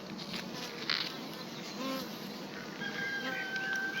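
A steady buzz of many honeybees at the hive fills the air, with a few louder passes nearby and a faint high tone late on.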